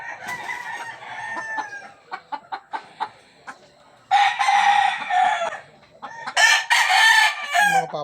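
A resting imported gamefowl rooster crows loudly and close by, two long full-throated crows following a series of short clucks and chortles from nearby fowl.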